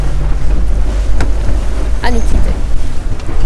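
A sailboat heads out to sea as the breeze picks up, with steady wind rush and water noise throughout and a voice speaking briefly over it.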